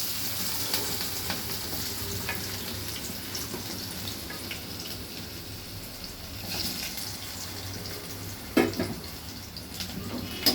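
Oil heating in a pan for palak paneer, a steady low sizzle and hiss running throughout, with occasional faint clinks and one brief louder knock near the end, with no voices.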